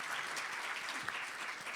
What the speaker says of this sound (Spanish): les pido un aplauso a los editores, a Jairo, a Roberto, a Edison, a Constanza,